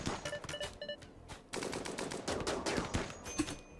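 Video game gunfire from a squad firefight, a dense burst of rapid shots and automatic fire crackling near and loud for nearly four seconds, with no talking.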